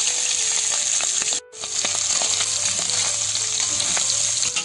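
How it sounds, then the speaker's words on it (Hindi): Pork frying in hot oil crackles loudly and continuously for pork pickle, a dense close sizzle with stirring scrapes and one brief dropout of sound partway through; no one speaks. "तेल में आपको पोर्क फ्राई करना है।"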